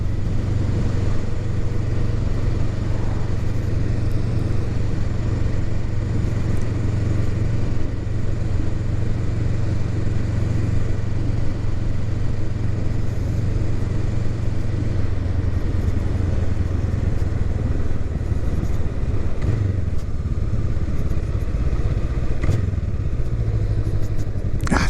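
A 2023 Honda Rebel 500 SE motorcycle engine runs steadily throughout, a continuous low rumble with road and wind noise, loud and close, with no one speaking.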